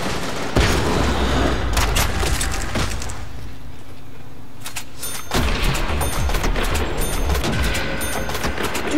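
An FG-42 fires in the Nacht der Untoten zombies mode. Dense, loud bursts of rapid shots are mixed with heavy booms and impacts, briefly thinning out midway before resuming at full intensity.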